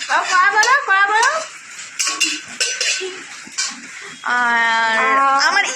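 A small child handles a metal kadai, producing ringing metallic clanks and knocks at irregular moments, close by, mixed with voices talking.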